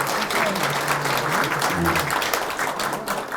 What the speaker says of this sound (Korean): 이분들에게도 여러분 박수 한번 쳐주시기 바랍니다